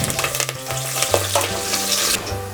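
Onion, bay leaf, kasuri methi and curry leaves fry in hot oil in a pan after mustard seeds have popped, a close, steady sizzle with stirring scrapes and light clinks of a utensil.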